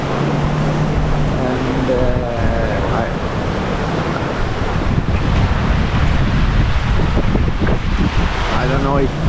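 Gale wind roars across the microphone while large waves surge around a sailboat running wing on wing at sea off Norway, loud and constant, with a voice speaking briefly over it.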